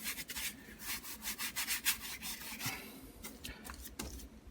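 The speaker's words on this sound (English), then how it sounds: "Crisscross it and get it all pushed into the cotton of your canvas there." Brush scrubbing acrylic paint and retarder into a canvas panel, a soft, close rubbing scratch in quick back-and-forth crisscross strokes, faint and steady with no voices.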